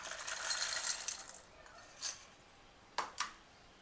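Peanuts patter and clatter into a steel mixer jar, a quick rattling pour followed by a few sharp, faint clinks of single nuts landing, quiet and close with no talk.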